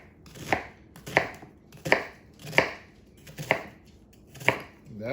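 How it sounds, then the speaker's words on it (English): A knife slices food into strips on a cutting board, six evenly spaced, crisp cuts landing close by at a steady, unhurried pace. "I slice it down the middle, slice it in strips."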